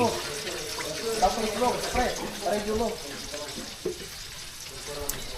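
Steady running water from a tap pours beneath a person talking, with a faint clatter now and then.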